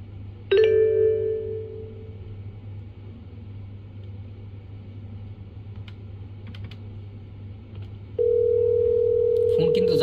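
A call placed from a Grandstream GRP2602P IP phone to a reception extension: a brief tone burst at the start, quiet soft clicks, then a steady electronic ringing tone that holds to the end.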